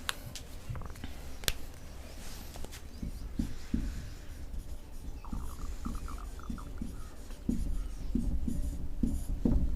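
Chalk or marker scratching on a board in a classroom lesson, a series of short strokes and taps with a brief squeaky stretch midway, fairly close and without any talk.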